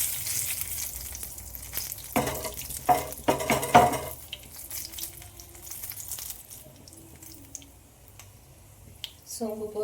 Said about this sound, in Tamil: சோம்பு பொரிஞ்ச உடனே, கடுகு பொரிஞ்ச உடனே அதில் கருவேப்பிலையை சேர்த்துக்கலாம்